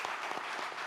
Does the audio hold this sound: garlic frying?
no